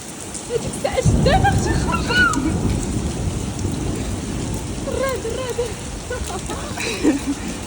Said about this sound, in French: Regardez la pluie.